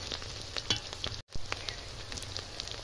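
Pumpkin flower pakoras sizzle steadily as they fry in hot oil, with crackling pops throughout and one brief dropout in the sound.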